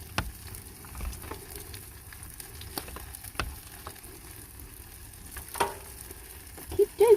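Bread rolls char-grilling in a pan with butter give a soft, low sizzle that runs steadily, broken by a few sharp taps and clinks near the end, with no voices.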